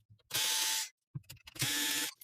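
A Canon PIXMA MG2120 printer is taken apart, with two loud bursts of a small tool whirring as screws are removed, separated by quiet handling clicks.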